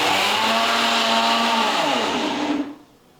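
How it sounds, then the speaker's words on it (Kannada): A kitchen mixer grinder purees cut mangoes in its jar with a loud, steady whirring drone for about two and a half seconds, then the motor winds down and stops. "ನಾವೀಗ ಕಟ್ ಮಾಡ್ಕೊಂಡಿರೋ ಎಲ್ಲ ಮ್ಯಾಂಗೋಸ್ನ ನಾವು ಒಂದು ಮಿಕ್ಸಿ ಜಾರಲ್ಲಿ ಪ್ಯೂರಿ ಮಾಡ್ಕೊತಾ ಇದ್ದೀವಿ."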